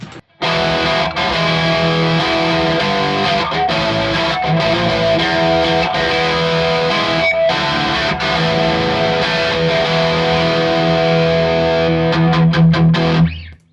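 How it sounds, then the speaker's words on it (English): Heavily distorted electric guitar plays loud, sustained chords and riffs through the distortion channel of a 1993 Peavey 5150 amp for about fourteen seconds, with no voices. "that's just a really usable distortion channel out of the box"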